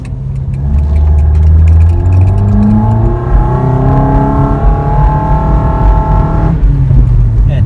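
A 2014-2016 Toyota Corolla with a modified air intake revs loudly up close, engine pitch climbing steadily and holding high before dropping back toward idle near the end, with no voices over it.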